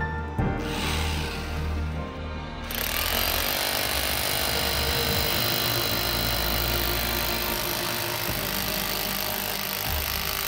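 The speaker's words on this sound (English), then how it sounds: "Now let's start up this 2200-watt demolition hammer." A 2200-watt electric demolition hammer, powered from a homemade solar panel, starts up and pounds continuously in a loud, rapid rattling rhythm, running steadily to the end.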